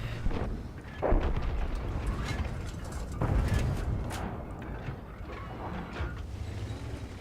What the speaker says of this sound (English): Looks like the IS-4 might have just fired.